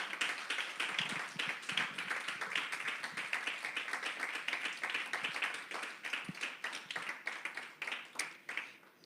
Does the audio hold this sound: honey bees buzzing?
no